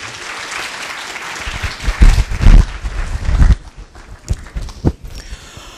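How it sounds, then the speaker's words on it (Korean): A university lecture audience in Ulsan applauding to welcome a guest speaker, the clapping building to a loud, dense burst, then thinning into scattered claps as it fades. "큰 박수로 환영해 주시기 바랍니다."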